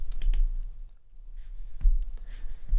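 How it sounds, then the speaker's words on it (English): Several sharp mouse clicks on a computer while navigating a web page in Adobe Muse, close and fairly loud, with quieter clicking between them and no talking. "I will go ahead and click on individuals."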